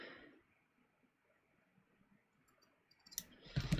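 Scissors cutting a dress extension and twill tape: a near-silent pause, then a few crisp, close snips and rustles bunched at the end.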